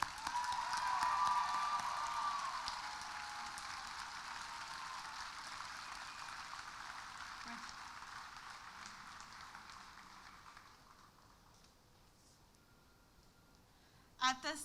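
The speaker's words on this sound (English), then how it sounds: "Can you all" A crowd at an outdoor community gathering claps for a speaker, applause loudest at first and then slowly thinning and fading away, with a brief sharp sound at the very end.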